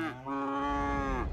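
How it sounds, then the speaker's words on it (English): A cow lows in a long, drawn-out moo from the city-building game Cities: Skylines, heard near and fairly loud on its own, rising slightly at the start and tapering off at the end. "Lots of cows, apparently."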